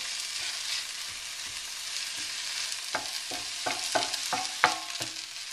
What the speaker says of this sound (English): I stir it around so all those little garlic pieces are hitting the pan